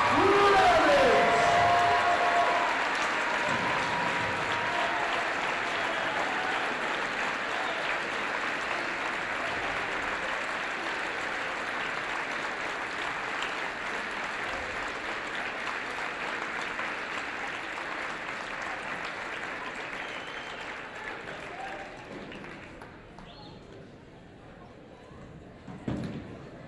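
A large crowd at a high school varsity boys basketball game applauds and cheers for Coach Mike Ramage, a loud sustained roar of clapping that slowly fades over nearly half a minute.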